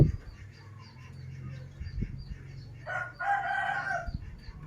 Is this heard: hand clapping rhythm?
no